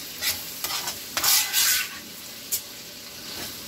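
Ground meat for nachos frying in a pan, a soft sizzle broken by several scraping stirs of a utensil, heard close with no voices.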